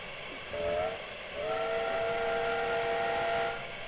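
Flying Scotsman steam locomotive in Train Simulator sounds a short whistle blast and then a longer sustained one over a steady background hiss of steam, with no talking.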